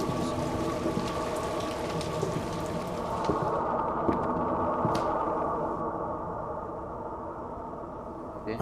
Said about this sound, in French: C'est la pluie, je pense.